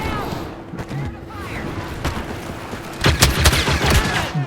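Rapid blaster shots from a Star Wars video game, a dense volley of sharp crackling bursts that grows louder and more clustered toward the end, with a voice talking over part of it.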